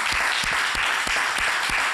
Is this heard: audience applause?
yes